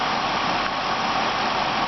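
A car engine idling quietly, heard as a smooth, even, moderately loud hum with no variation and no voices.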